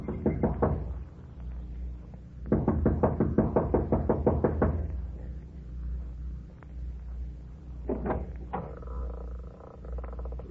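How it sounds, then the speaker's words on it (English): Impatient knocking on the front door of a mountain lodge: three bursts of rapid knuckle raps, close and fairly loud, separated by short pauses, with no voices. "She knocks impatiently,"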